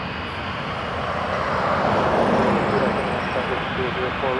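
Air Canada Boeing 777-300ER arriving from Tokyo at Toronto Pearson, a broad, steady jet roar building slightly toward the middle, heard from a distance through foggy air, with faint voices mixed in.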